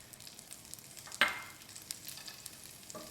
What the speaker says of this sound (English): Once the pan has heated up enough, we add the butter. Let the butter melt a little.